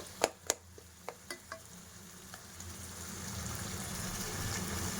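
Mutton curry in a pot being stirred: a few quick sharp clinks of a spoon against the pot, then a rising low bubbling simmer that grows steadily louder, faint overall with no speech.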